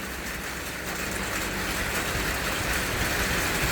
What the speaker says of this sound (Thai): ฝนมาแล้ว ฝนมาแล้ว